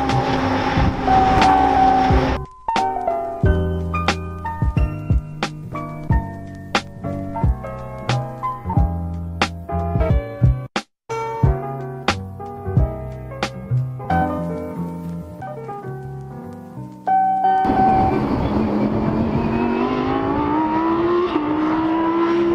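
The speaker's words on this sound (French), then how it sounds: "là vous avez les voitures qui s'alignent sur la grille de départ pour un tour de chauffe avant le départ de la course" GT3 race cars, including Lamborghini Huracan GT3s, red Ferrari 488s and a matte-black BMW M6 GT3, lining up on the starting grid at Circuit Paul Ricard for a warm-up lap. Engine noise swells at the start and end, with tonal, music-like sounds between.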